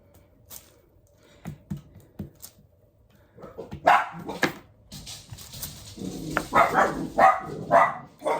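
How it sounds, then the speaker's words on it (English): A few faint thuds, then several dogs bark and whimper at moderate distance in quick, uneven bursts. "There's the dogs barking."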